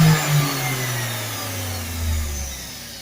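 Treadmill motor driving a honey spinner, a steady electric whine that drifts down in pitch as it slows, over a low mechanical hum.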